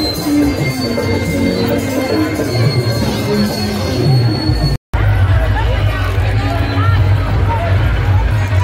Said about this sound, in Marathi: खूप लोकांची गर्दी जमलेली आहे मित्रांनो जयंतीला.